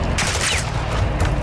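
Rapid gunfire in Call of Duty Modern Warfare 2 (2022), a dense loud burst of repeated shots running almost continuously with no voices over it.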